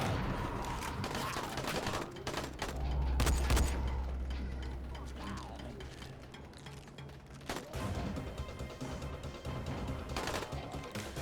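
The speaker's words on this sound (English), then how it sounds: "Shoot your gun, Crane." Several sharp gunshots fired by Crane in Dying Light crack out in close succession amid game combat noise, with one heavier low boom partway through and scattered mechanical clatter after.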